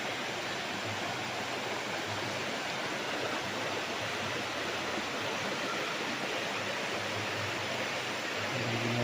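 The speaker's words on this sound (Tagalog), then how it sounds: "Ang agos ng tubig pag ganun" River water flowing beside a farm lot in Liliw, Laguna, heard as a steady, dense rushing wash that stays even and fairly close throughout, with no voices.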